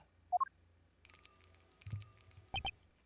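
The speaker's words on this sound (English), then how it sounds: "What's that tinkling sound?" A small bell tinkles with bright, repeated chimes in the video game Ace Attorney Investigations 2, after a couple of short blips, heard alone without talk.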